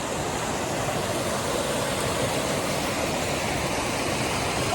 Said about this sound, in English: there's another river joining here.